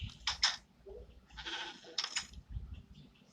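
A goat on a Minecraft farm gives several short bleats in quick pairs, fairly close, with quiet pauses between the calls and no talking.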